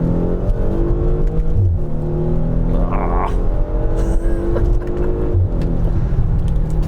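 An Audi SQ5 in dynamic drive mode accelerates hard, its engine note loud and close, rising and falling in pitch through the gear changes, with a steady roar that carries throughout.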